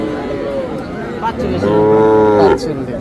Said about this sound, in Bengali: এই সুন্দর বকনা বাছুরটা